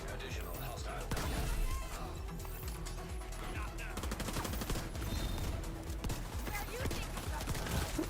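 A shotgun loaded with golden bullets firing in The Division 2, with several heavy shots mixed into a busy layer of game gunfire and impacts, loud and continuous throughout.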